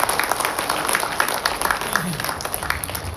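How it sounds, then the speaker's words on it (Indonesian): Audience applause after a call to clap for an honoured guest at a gathering, a steady patter of many hands at moderate loudness lasting the whole moment. "Tepuk tangan dong buat beliau."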